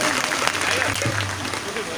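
Audience clapping at a Buddhist religious gathering, a continuous crowd patter with a voice talking over it.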